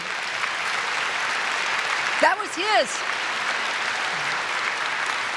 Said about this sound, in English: you all are clapping, because this is a good story to tell here in a church